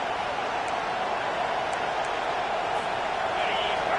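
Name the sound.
stadium crowd roaring in NCAA 25 video game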